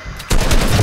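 A single heavy gunshot in Fortnite bursts in loud and sharp partway through, then rings out and trails off under no talk.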